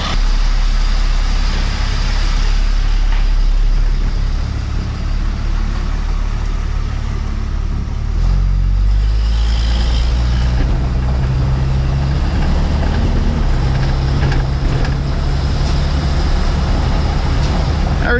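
A Cummins diesel pickup with a 48RE transmission pulls away, its deep, loud engine drone rising and shifting in pitch as it gets underway, steady tire and road rumble underneath.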